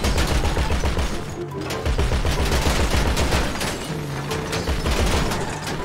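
Rapid bursts of automatic gunfire in the GTA RP video game, several overlapping volleys of loud, dense shots rattling one after another with brief gaps, no talk over them.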